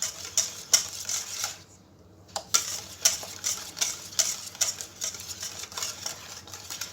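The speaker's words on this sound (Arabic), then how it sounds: "نخلط هادشي مزيان" Spoon stirring a lemon dessert mixture in a bowl, with quick rhythmic clinking and scraping strokes that pause briefly midway, close and fairly clear with no talk.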